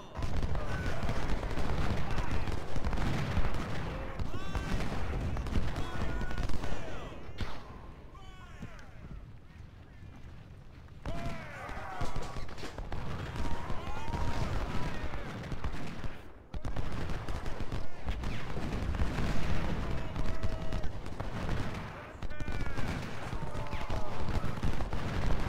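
Dense, continuous musket volleys and crackling gunfire rage through a Civil War battle at Gaines' Mill in Ultimate General: Civil War, loud and sustained with brief lulls, while someone talks over it.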